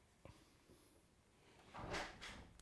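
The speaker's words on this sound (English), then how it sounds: "that's Eric scratching the door. He wants to come and join in" A pet scratching at an indoor door, heard as a few short, rough scuffing bursts toward the end, fairly close, with a faint knock earlier and quiet room tone.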